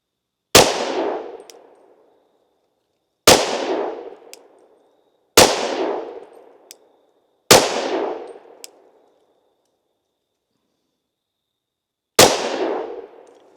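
Five loud, sharp shots from a Glock 31 pistol firing MinuteMan 357 SIG ammunition at a 10-yard range, evenly spaced except a longer pause before the last, each followed by a short fading echo.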